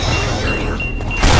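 A thrown explosive blows up in Left 4 Dead 2: a sudden loud broadband burst lands near the end of a short stretch of steady game noise, close and heavy.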